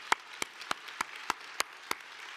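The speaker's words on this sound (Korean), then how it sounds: "우리 하나님께 영광의 박수 한번 올려드립니다." A Korean church congregation at a Sunday service claps for God, heard as a sparse, steady run of about seven sharp, separate claps, fairly faint, with no voices over them.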